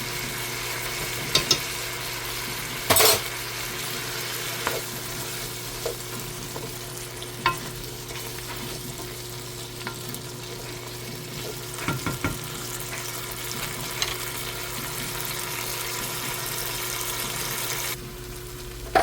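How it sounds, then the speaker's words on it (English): Garlic and spices fry in a pan with a soft, steady sizzle and crackle, broken by a few sharp clicks of stirring, and the sound stays faint and even throughout. "So that is nicely frying up."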